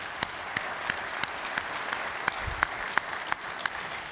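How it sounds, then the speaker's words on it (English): Audience applause at a clean transportation conference: a steady wash of distant, modest clapping from a room, with sharper individual claps standing out at regular intervals throughout. "Just a quick round of applause for all of them."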